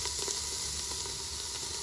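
A ham hock sears in hot garlic-flavored oil, a steady close, dense sizzle and hiss with no pauses across the short stretch.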